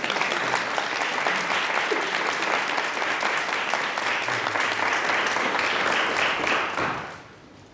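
An audience at a Black History Month talk at Jesus College bursts into dense, steady applause that holds strong for several seconds, then quickly fades out.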